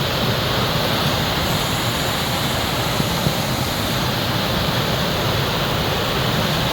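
Water flows at the source of the Kukdi river with a loud, unbroken roar, dense and steady like a waterfall or rushing torrent nearby, with no voices.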